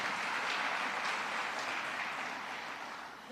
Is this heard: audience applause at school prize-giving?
yes